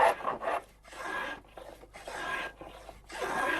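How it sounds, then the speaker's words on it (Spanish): A hand plane shaves along the edges of a wooden rake handle to round it, making a series of close, dry rasping strokes separated by brief pauses. "Antes de ajustar el mango al cabezal hay que redondearlo, labor que consiste en rebajarle los bordes con el cepillo"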